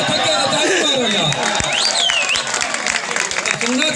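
An audience claps at a mushaira poetry gathering, with dense, loud applause and crowd noise running throughout and a few sharp claps standing out.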